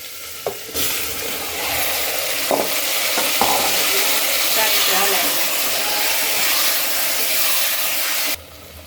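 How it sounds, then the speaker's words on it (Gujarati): Loud, steady sizzling of spices dropped into hot oil, with a few light clinks at the start, then an abrupt stop. "હવે આપણે વઘાર કરશું।"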